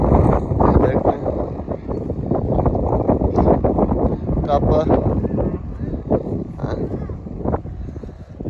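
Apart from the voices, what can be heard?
wind blowing in a field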